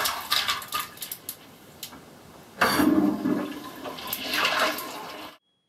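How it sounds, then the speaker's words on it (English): A toilet flushes with ice cubes in the bowl. Brief clinks and rattles come first, then a loud rushing, gurgling swirl of water that drains away and cuts off abruptly. "Flush ice down the toilet."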